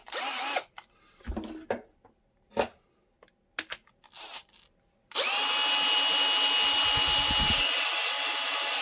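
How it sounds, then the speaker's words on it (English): A powered screwdriver works screws out of a Rocky Mountain e-bike battery casing, with several short whirring bursts and handling clicks followed by a long continuous high-pitched whine, close up with no talking. "I need to unscrew a couple of screws here, so let me take my screwdriver"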